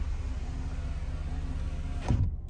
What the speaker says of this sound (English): we'll put the windows up